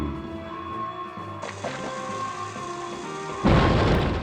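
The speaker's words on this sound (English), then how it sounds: "these explosions Vinny sets off, they can damage Vinny" Explosions in the Atlantis: The Lost Empire video game: a tonal game backdrop, then a sharp burst around the midpoint and a loud, rumbling blast near the end that stays heavy.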